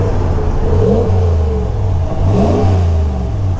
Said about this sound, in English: And you have two exhausts. Nice sound from them as well.